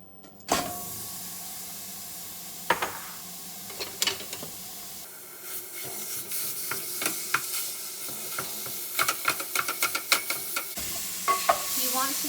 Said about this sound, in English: we are preheating the skillet on medium heat, and we're going to brown the beef.